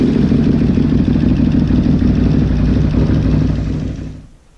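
A Can-Am Outlander XMR 850 ATV engine runs loud and close with a steady, throbbing mid-pitched drone, then dies away sharply in the final half-second, with no talking.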